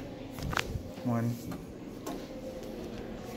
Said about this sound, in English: Door close button works.